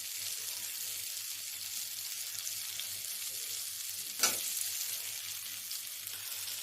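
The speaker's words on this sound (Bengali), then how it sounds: "এবার আমি ভেজে রাখা আলুগুলো এর মধ্যে দিয়ে দেবো।" A pan with green chillies and spices sizzles steadily, and one brief louder splash-like burst comes as fried potatoes drop in; no speech.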